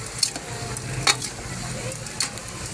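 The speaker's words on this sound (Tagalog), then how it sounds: "ginisa na natin yan sa bawang at saka sibuyas" Pork kilayin sautéing with garlic and onion in a pan, a continuous sizzle broken by a few sharp scraping stirs of a utensil, with faint background voice.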